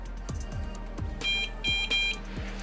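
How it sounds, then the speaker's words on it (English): Short electronic beeps from the keypad of an Onnais gun safe, a quick run of high, clean tones clustered mid-clip over a background of low thumps. "Beep, beep, beep."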